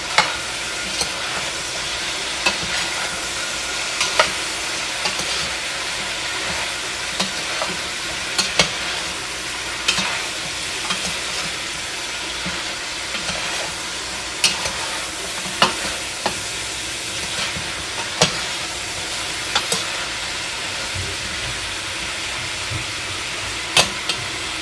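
Spare ribs fry and sizzle loudly in a pan with beer, a steady broadband hiss broken by sharp pops and spatters throughout, no voices.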